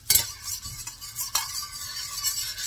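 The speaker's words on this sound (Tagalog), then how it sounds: "Narinig mo, basta sumasagitsit. Sumasagitsit na, oh." Garlic sizzles in a hot pan while being stirred, with sharp utensil scrapes and clinks against the pan over a soft, continuous frying hiss.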